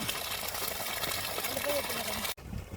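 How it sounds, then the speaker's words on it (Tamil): Water gushes steadily from a 3000W BLDC solar borewell pump drawing from 300 feet through a 1.5-inch outlet, a continuous broadband rush heard close, with a faint voice in the background, until it cuts off abruptly near the end. "தண்ணி நல்லா சூப்பராக வந்துக்கிட்டு இருக்குது"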